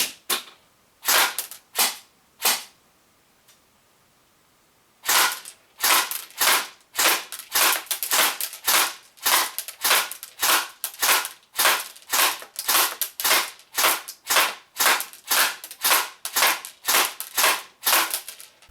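A Golden Eagle MCR LMG airsoft electric gun fires BBs during a 10-meter accuracy test: a few separate single shots, a pause, then a long run of sharp, evenly spaced cracking bursts, loud and close with no talking.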